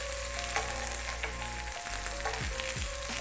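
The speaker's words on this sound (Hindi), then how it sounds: "इसको भी मक्खन के साथ अच्छी तरह प्याज को फ्राई कर लूँगी।" Onion frying in butter in a pan for a chicken cheese burger, a steady close sizzle with faint scraping stirs and a few clinks, no voices.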